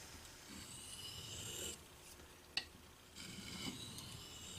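A knife blade is stroked across a black Arkansas sharpening stone in quiet, repeated raspy passes with short pauses and one small click between them, close and faint.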